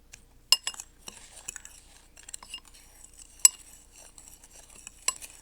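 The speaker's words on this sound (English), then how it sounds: "couple of lumps in the brown sugar that I'm going to try to break up here" A metal utensil breaking up lumps of brown sugar in a bowl while making coffee cake, giving faint scraping and a series of sharp, irregular clinks against the bowl in a quiet kitchen.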